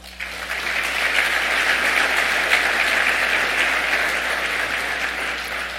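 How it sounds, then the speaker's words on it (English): Convention audience at a bowling congress annual meeting breaks into sustained, dense applause, loud and even throughout, with a faint low hum beneath. "Please give everyone a round of applause."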